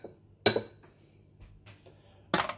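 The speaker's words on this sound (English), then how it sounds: "Just give it a good stir." A utensil clinks against a container while liquid lure plastic is stirred, with two sharp knocks about two seconds apart and faint scraping between, close and otherwise quiet.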